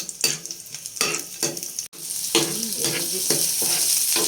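Garlic and onion sautéing in a pan for corned beef with potatoes, a close, steady sizzle broken by scraping stirs of a utensil against the pan, with no talking.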